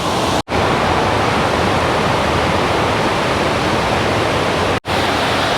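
Water pouring over the weir on the River Avon in Bath, a steady, loud, broadband rush that fills the scene without pause, broken only by two brief dropouts.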